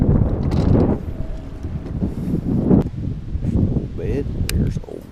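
Strong wind buffets the microphone out on Lake Norman during a fishing trip, gusty low rumbling that rises and falls throughout with no clear speech.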